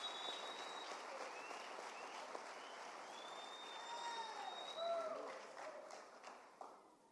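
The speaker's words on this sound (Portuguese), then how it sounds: "Nós vamos aplaudir, né, esse casal maravilhoso." Quiet applause from a church audience honoring a couple, steady and distant, with faint chatter and a few chirping tones over it, fading near the end.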